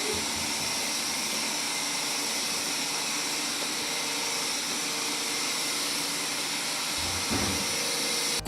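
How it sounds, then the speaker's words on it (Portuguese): A Blitzwolf BW-VC2 robot vacuum cleaner runs with a steady, broad whooshing hum that holds at an even, fairly loud level throughout, with a brief bump near the end. "estes aspiradores não são para aspirar enquanto vocês estão a dormir, porque de facto o ruído acaba por ser um bocadinho incomodativo"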